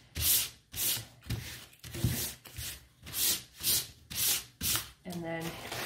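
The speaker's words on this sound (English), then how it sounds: "You're going to want to sand so that it's nice and smooth." A dry, painted wooden sign is sanded smooth by hand with rhythmic back-and-forth strokes, about eight loud, close, raspy rubbing bursts, each separated by brief pauses, with a short tonal squeak near the end.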